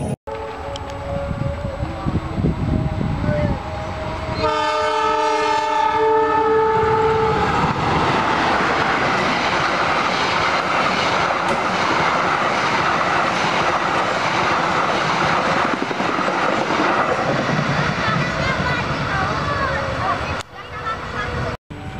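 A train runs past Kebumen station in Indonesia, starting with a long, loud horn blast and then settling into a steady, close rumble of wagons rolling by that lasts nearly to the end.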